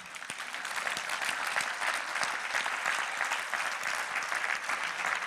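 A church congregation at a Holy Spirit conference applauds in a sustained, dense burst of clapping that holds steady for several seconds, moderately loud and fairly close.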